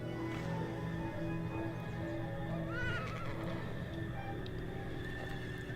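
A horse in an animated TV show neighs and whinnies near and clear over a steady background hum, with faint hoof clip-clops.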